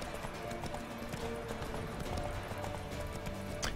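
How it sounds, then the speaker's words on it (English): Horse hooves pound in a steady galloping clip-clop in the fantasy video game The Witcher 3, loud and continuous over a dense game soundscape, with no voices. "I jump here at my horse and just run behind him."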